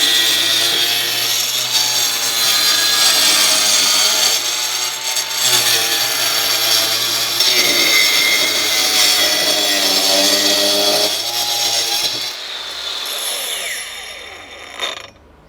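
An angle grinder cuts through ceramic tile with a loud, steady, harsh whine and grinding for over twelve seconds, then winds down and stops.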